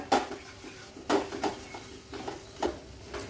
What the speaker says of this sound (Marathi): व्यवस्थित पुन्हा मिक्स करून घेऊया